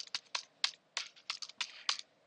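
Computer keyboard typing in short bursts of clacky keystrokes, seven distinct clusters with brief pauses between, ending with a firmer key press, close and fairly quiet, no talking.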